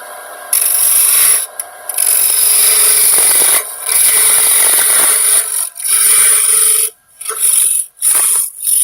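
Woodturning a bowl on a lathe: a loud, rasping scrape of the tool against spinning wood, continuous in long strokes with several short pauses and breaks as the cut lifts off.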